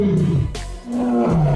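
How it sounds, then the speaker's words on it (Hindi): A tiger roars and snarls loudly at close range while attacking a wild boar in the wild, delivering two heavy growling bursts with a short gap between them. "एक जंगली सुअर पर बाघ ने हमला कर दिया"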